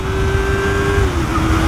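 A Yamaha MT03 321cc motorcycle engine held wide open in third gear, a steady loud high-revving whine climbing toward its limit, then easing slightly near the end, with continuous wind rush underneath.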